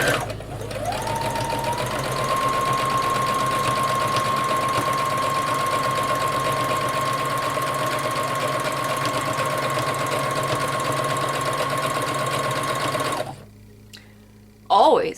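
A sewing machine stitches canvas for a book, whirring up to a steady high-pitched drone that runs evenly for about twelve seconds before stopping, followed by a brief clunk.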